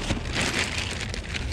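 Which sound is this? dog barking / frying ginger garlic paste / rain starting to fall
rain starting to fall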